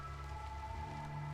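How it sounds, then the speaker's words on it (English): Steady, soft rainfall patters continuously on surfaces in the video game RimWorld, faint and even, with a low tonal hum beneath. "the rain is not making things easier, for accuracy's sake"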